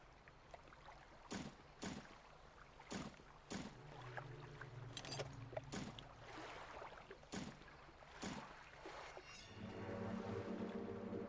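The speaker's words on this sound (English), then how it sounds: "I heard the boat literally right next to me." Boat in the fishing video game Dredge, a low droning motor that swells close by toward the end, under repeated soft rhythmic splashes and water sounds.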